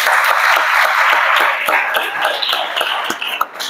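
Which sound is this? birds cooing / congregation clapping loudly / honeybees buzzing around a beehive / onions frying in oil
congregation clapping loudly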